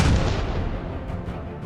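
Tank gunfire striking Russian tanks in an ambush: a dense, loud, low rumbling boom that starts strongest and rolls on continuously through the short stretch, with no speech.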